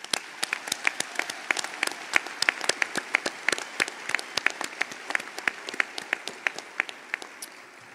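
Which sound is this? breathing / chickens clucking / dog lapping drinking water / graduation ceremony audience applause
graduation ceremony audience applause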